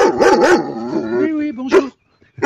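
A dog barks close by in a few loud, tonal bursts, then whines, on an outdoor walk gathering wild edible plants.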